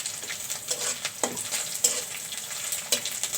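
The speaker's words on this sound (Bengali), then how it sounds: "শুটকি একটু তেলে ভেজে নিলে সেই তরকারিটা খেতে অনেক ভালো লাগে" Dried fish frying in oil in a pan, a steady close sizzle with occasional sharper crackles and stirring scrapes, no voices.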